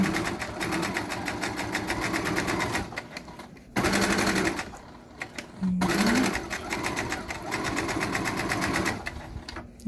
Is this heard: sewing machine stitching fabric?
yes